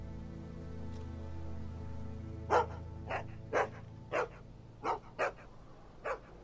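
A dog barks in single, evenly spaced woofs, about seven in all, over a low steady hum of background music in The Walking Dead video game.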